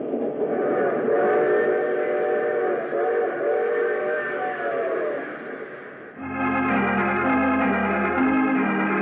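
A long, steady train whistle blows continuously, loud and close, then shifts into a brighter, layered chord of whistle tones near the end.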